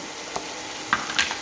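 Flour cooks in a pan with garlic, a brief steady frying hiss with a couple of light stirring scrapes and taps, close by.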